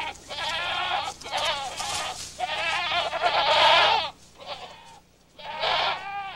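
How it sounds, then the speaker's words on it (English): Goats roaming loose in a forest bleat in several loud, wavering bursts with short gaps between them, close by and with no talk. "Goats let loose in the forest are very destructive, browsing just about anything they can reach."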